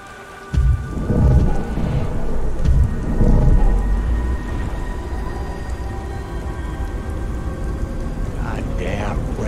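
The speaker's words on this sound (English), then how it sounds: "Goddamn rain." Steady rain pours in a video game with deep rumbling thunder rolling in near the start, then a continuous wash of rainfall fills the rest.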